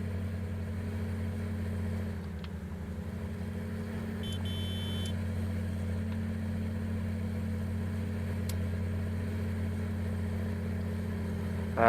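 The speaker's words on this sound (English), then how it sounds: "One of the things that this modder did with this JCP is he changed the engine sound." In a video game, a modded JCP vehicle's engine hums steadily at a low, even drone for the whole stretch, with faint electronic beeps now and then.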